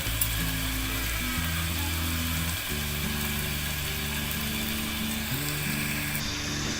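Minced meat fries in a pan with a loud, steady sizzle that never lets up, while sustained tonal notes that shift in steps, like background music, run beneath it throughout.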